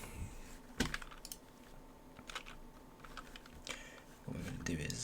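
Scattered computer keyboard keystrokes and short typing bursts while writing code for a batch file that sends Discord webhook messages, close and fairly crisp, ending in a quicker run of keys.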